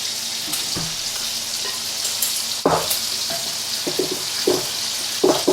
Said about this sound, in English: Anyway, you add the beer, mix it all up.